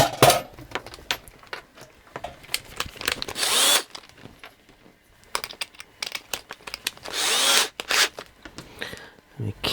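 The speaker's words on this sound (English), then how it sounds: "drill that rivet out of there" A power drill whirs in short bursts and longer runs as it bores out a rivet while repairing a 17TG100U, with handling clatter between bursts and nearby talk in places.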